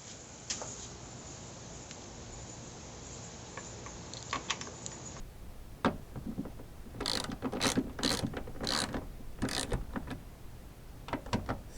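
Ratcheting clicks from a wrench snugging a Loctite-coated bolt on a liftgate strut bracket of a 2007 Toyota Highlander Hybrid, in quick close bursts after a quieter stretch of low hiss.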